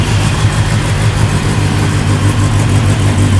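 A loud race car engine runs with a deep, steady roar and throaty rumble, close by, with no voices.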